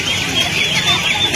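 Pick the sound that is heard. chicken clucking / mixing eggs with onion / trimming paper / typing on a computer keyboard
chicken clucking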